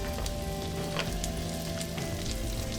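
Snow peas sizzle in a zucchini and squash sauté with garlic and sesame oil, a faint, steady crackling fry with small pops throughout and no talk.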